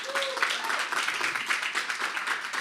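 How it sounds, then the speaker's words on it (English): A crowd claps steadily, a dense patter of hands filling the room, with a voice briefly heard at the start. "Let's give him a round of applause."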